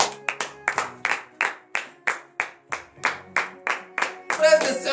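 A church congregation at a morning prayer service claps in steady rhythmic unison, about a dozen loud, evenly spaced claps, with a brief swell of voices and applause at the end.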